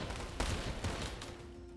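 Light cannons fire in a tank battle video game, a few sharp booming shots with a rumbling low tail, sitting faintly in the background mix with no talk over them.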